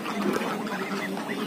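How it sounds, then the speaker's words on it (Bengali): Ducks at a small backyard duck farm give a quick run of overlapping nasal quacks and chatter, close and moderately loud, with no talk over them. "এটা হচ্ছে সাকিবের ছোট্ট হাঁসের খামার"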